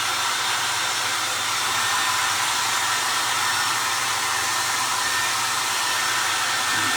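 A hair dryer blows nonstop on a wet handmade primitive sunflower craft, a loud, close, steady roar filling the whole stretch with no talking.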